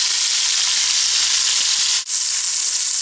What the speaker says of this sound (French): Voilà 5 minutes que les lardons grillent.